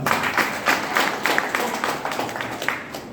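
A small group claps in a brisk, uneven rhythm at a business gathering, the claps fairly close and moderately loud, with a faint murmur underneath.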